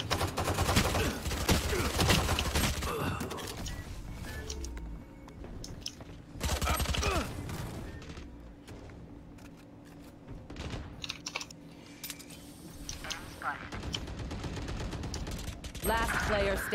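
Rapid bursts of gunfire in the video game Valorant come in repeated volleys, mixed with clattering keyboard typing and mouse clicks, with loud stretches of shooting broken by quieter gaps.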